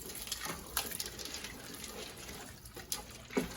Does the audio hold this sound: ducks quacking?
no